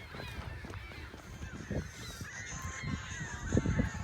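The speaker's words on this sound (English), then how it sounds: "The geese and the seagulls out here seem to be having a good time." Geese honk repeatedly from a short distance, their calls overlapping in a noisy flock, with faint higher seagull cries mixed in over outdoor ambience.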